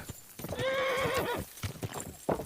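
A horse in the video game Kingdom Come: Deliverance whinnies once, a loud drawn-out neigh with hoof clops around it, clear and close.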